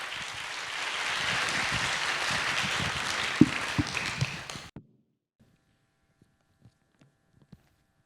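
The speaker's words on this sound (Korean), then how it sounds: "우리 안강희 선교사님 나오실 때 우리 힘찬 박수로 환영하실까요?" Church congregation at a Sunday worship service applauding to welcome a missionary to the front, a steady wash of clapping that stops abruptly after a few seconds, followed by near silence with a few faint taps and footsteps.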